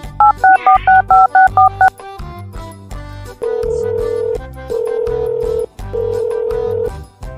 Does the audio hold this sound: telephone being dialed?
yes